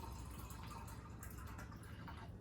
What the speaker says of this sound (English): So we're going to pour in here.